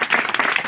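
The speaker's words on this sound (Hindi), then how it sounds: "एक बार उनके लिए भी तालियां" A short burst of clapping from a crowd, dense and steady, fairly close.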